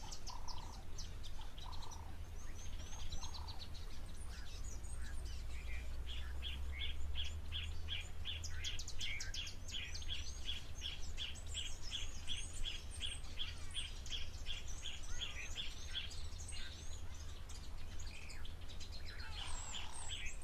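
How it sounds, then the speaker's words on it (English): Birds call around a waterhole, pied avocets among them, with rapid repeated high chirps in bursts and scattered shorter calls over a low steady background hum, faint and distant. "Also got a couple of birds, and the ones on the left of the pied avocet"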